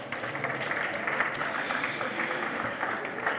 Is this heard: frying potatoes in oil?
no